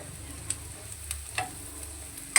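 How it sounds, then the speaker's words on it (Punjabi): Onions fry gently in a pan as turmeric goes in, with a soft, low sizzle underneath and a few sharp clinks and scrapes of stirring, the last one loudest. "ਪਿਆਜ਼ਾਂ ਨੂੰ ਆਪਾਂ ਚੰਗੀ ਤਰ੍ਹਾਂ ਭੁੰਨ ਲਿਆ ਜੀ ਇੱਥੇ ਤੇ ਹੁਣ ਆਪਾਂ ਇੱਥੇ ਪਾਵਾਂਗੇ ਹਲਦੀ"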